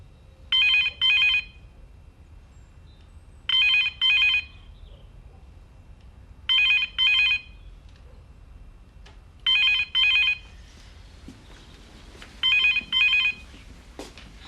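A telephone rings in a quiet home setting, five double-burst rings evenly spaced about three seconds apart, loud and clear over faint room noise, with no talking.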